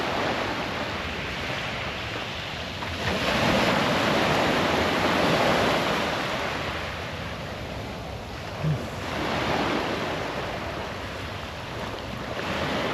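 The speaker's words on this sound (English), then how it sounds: "Nice little baby waves" Small, calm sea waves wash onto a Barcelona beach in a steady, close rush that swells and eases several times, mixed with wind noise against the microphone, with no one speaking.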